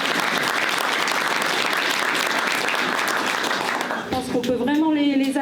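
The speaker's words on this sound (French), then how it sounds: "applaudir." An audience at a youth talent awards ceremony gives loud, dense applause for several seconds; the clapping then thins out as a voice comes in over it near the end.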